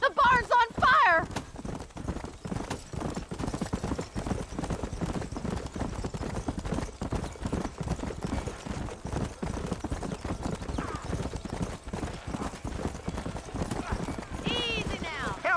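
Horse hooves clattering in a rapid, continuous clip-clop beside a burning barn in the Red Dead Redemption video game, with sharp neighs breaking through at the start and near the end.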